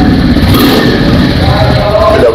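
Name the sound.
Royal Enfield Classic 350 motorcycle engine started and revved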